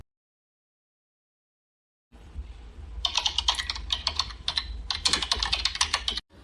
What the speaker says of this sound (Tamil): இதுல இருக்கிற பேரு, ரெஜிஸ்டர் நம்பர் எல்லாத்தையும் வரிசையா டைப் பண்ணு